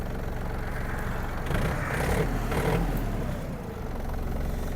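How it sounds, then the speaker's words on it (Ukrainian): A Yanmar RS-27 mini tractor's diesel engine idles while warming up, a steady low rumble that rises briefly in the middle with a slight rev before settling back to an even idle. "Давайте дамо двигуну прогрітися."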